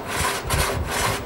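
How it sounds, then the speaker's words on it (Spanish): Sawyers in a forest cut a log into boards with a hand saw, giving rhythmic back-and-forth rasping strokes of wood being cut, close and steady. "los aserradores lo van a dividir en distintas piezas a la medida de las tablas que quieren preparar."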